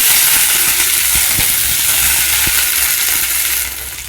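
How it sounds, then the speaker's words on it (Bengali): Pumpkin pieces and the inner parts of pumpkin flowers fry in a pan, giving a steady, close broadband sizzle with a few soft stirring knocks, easing off slightly near the end. "কুমড়োগুলো আমার একটু অল্প ভাজা হয়ে গেছে"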